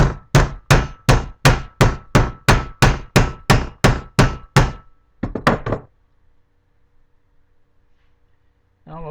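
A hammer pounds metal closed on a small anvil mounted on a vise, about a dozen sharp, evenly spaced close blows, then a quick trio of lighter taps before near silence.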